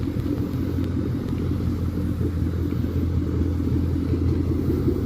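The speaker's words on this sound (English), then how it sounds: "Of course, the sound's coming from that Roush exhaust system." A 2014 Ford Mustang GT 5.0 V8 fitted with a Roush exhaust rumbles at idle, a loud, close, low burble that holds steady throughout without talk.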